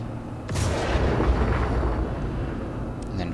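A Raptor X spacecraft firing its weapons in the space game Star Citizen, a sudden booming blast followed by a rolling, rumbling roar of sustained fire that stays loud throughout.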